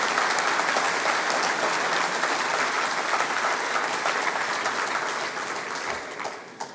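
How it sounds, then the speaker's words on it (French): Dense audience applause at a mayor's New Year reception, a sustained, fairly loud clapping crowd that holds steady and then tapers off toward the end. "Vous avez applaudi plus vite que je ne puisse dire son nom."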